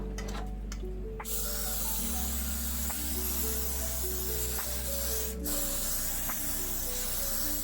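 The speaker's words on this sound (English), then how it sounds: "I forgot to spray my pan. Spray my pan." Cooking spray hissing from an aerosol can onto a pan while fried chicken and mac and cheese are being made, a steady close hiss over a low hum with a few faint clicks.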